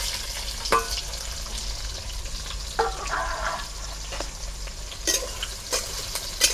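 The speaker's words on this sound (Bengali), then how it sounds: "তেলটা গরম হয়ে গেছে। এবারে আমি দিয়ে দেবো 20-25টা মতো রসুনের কোয়া" Twenty or so garlic cloves frying in hot white oil, a steady low sizzle with occasional sharp crackles and stirring clatter, close by and without talk.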